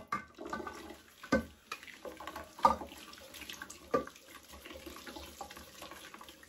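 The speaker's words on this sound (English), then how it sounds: "You can also remove this one, wash everything clean" Tap water runs over a new herbal tea pot as it is rinsed in a sink, a steady splashing stream broken by several sharper clatters and knocks of the pot.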